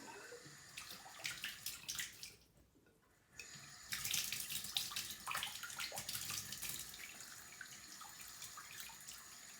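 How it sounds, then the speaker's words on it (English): A bathtub fills from a running spout, a steady hiss of pouring water that stops briefly, then resumes with splashing and scattered drips, heard close and alone. "When I open the spout, it'll run and it'll wet the concoction and it'll all run into the bath."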